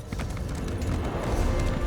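Hooves of a frost-skulled horse mount in the video game The Elder Scrolls Online, a quick run of clip-clop hoofbeats in a steady gait, close and fairly loud.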